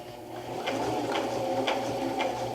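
A sewing machine stitches a half-inch seam on a raggy quilt with a steady motor hum and evenly spaced clicking pulses roughly every half second, fairly quiet and close.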